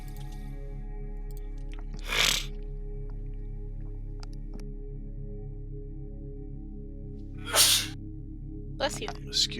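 Sneezes bursting out during a tabletop game session: a loud one around two seconds, another a few seconds later, and a quicker pair near the end, over a steady low hum of room noise.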